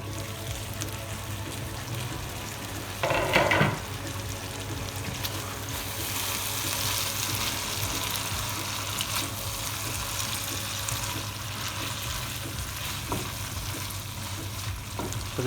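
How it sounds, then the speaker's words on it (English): Chicken achari cooks in a pan over a low flame, giving a steady, quiet frying sizzle throughout, with a brief louder scrape of stirring early on. "So we're going to cook the chicken on low flame for about 5 minutes or so."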